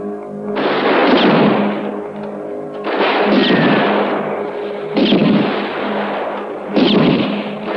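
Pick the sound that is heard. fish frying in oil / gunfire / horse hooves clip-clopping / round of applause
gunfire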